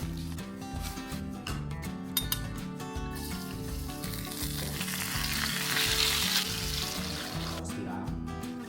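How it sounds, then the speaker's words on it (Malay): Steady, loud sizzling of sesame seeds frying in a hot wok, with occasional clinks of a utensil stirring; no talking. "Sangaikan biji bijan."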